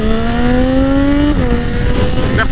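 A Triumph Daytona 675R three-cylinder motorcycle engine revs loud and close, its pitch climbing smoothly before a quick gear change drops it, then rising again.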